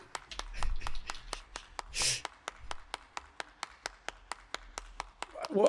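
A character in an indie video game clapping: a steady, evenly spaced run of about twenty crisp hand claps, with a brief whoosh and low background rumble partway through.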